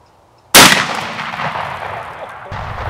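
A shotgun loaded with tungsten shot fires once at a plywood target outdoors, a loud sharp blast at close range followed by a long rumbling echo that trails off slowly.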